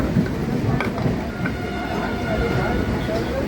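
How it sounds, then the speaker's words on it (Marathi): A Vashi-bound train rolls by with a continuous low rumble and scattered clanks, moderately loud, with murmuring voices in the background. "तिकडे वाशीची ट्रेन आली आहे"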